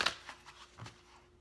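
Tarot cards being shuffled by hand, a quick riffle burst at the start followed by a few softer, faint flicks and shuffles, close up with no talking.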